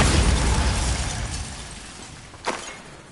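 The Bombarda blasting spell goes off in Hogwarts Legacy, a short sharp burst cutting through a fading wash of game ambience and rumble, with a quick crackling debris tail.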